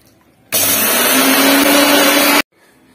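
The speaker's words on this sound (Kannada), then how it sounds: "ಮಿಕ್ಸರ್ ಹಾಕ" An electric mixer grinder grinds roasted gram (putani) into flour, a loud, steady motor whir with rattling that starts abruptly, runs for about two seconds and cuts off sharply.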